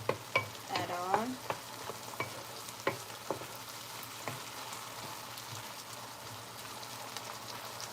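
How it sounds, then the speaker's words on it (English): Food sautés quietly in a pan while a wooden spoon stirs and scrapes, giving a soft steady sizzle broken by sharp knocks of the spoon against the pan, loudest in the first few seconds. "So meanwhile, this is sauteing."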